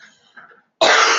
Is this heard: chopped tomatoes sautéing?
no